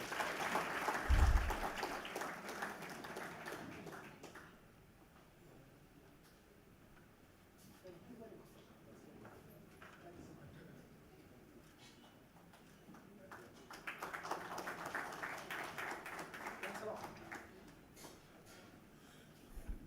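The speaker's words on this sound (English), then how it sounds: "Give him another round of applause." Audience applause after a lecture on escaping the middle income technology trap, with clapping swelling at the start and again toward the end, separated by a quieter stretch of murmuring in the hall.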